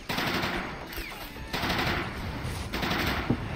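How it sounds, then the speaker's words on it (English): Sustained machine gun fire in a war video game, with dense rapid bursts that keep going for several seconds at steady loudness, no talking. "the machine gun is still going"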